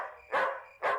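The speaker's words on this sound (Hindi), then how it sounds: "कुत्ता सारी रात भौंकता रहता है।" A dog barks twice at night, two close, loud barks about half a second apart with quiet in between.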